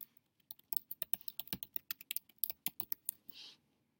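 Close, crisp keystrokes on a computer keyboard tap out in an irregular quick run of about two dozen clicks, then end with a soft rustle. No one speaks.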